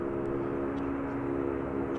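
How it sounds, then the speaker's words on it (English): An American Airlines Airbus A321 jet rolling slowly at Dallas/Fort Worth airport gives a steady, continuous engine roar with a low drone, moderately loud and unbroken, with no voices. "Off to Portland goes American Flight 2655, this Airbus A321."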